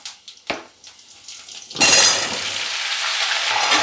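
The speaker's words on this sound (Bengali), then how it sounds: "এখন পেঁপে আলুটাকে একটু ভাজা করে নিতে হবে" Papaya and potato pieces hit hot spiced oil in a pan for a Bengali papaya curry. A few soft clinks come first, then a loud, steady sizzle of frying takes over and continues to the end.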